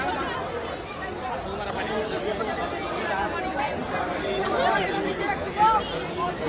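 Dense crowd of devotees murmuring at Mahakaleshwar temple in Ujjain, a steady close wash of overlapping chatter and footsteps throughout with no single voice standing out.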